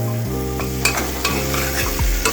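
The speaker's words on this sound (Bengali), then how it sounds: "এটাকে ভালো করে কষাতে হবে," Chicken curry with tomatoes, salt, turmeric and a little sugar is stirred and fried in a pan, a loud close sizzle under brisk scraping strokes of a spoon.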